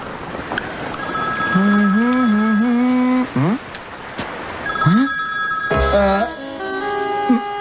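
A phone rings with a looping melodic electronic tone, loud and close, broken by a few sharp noises and a low thump.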